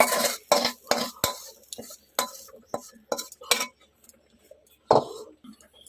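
A metal spoon scrapes and clinks against a pan and bowl while serving fried greens, in a series of short, uneven knocks, close and clear with quiet gaps.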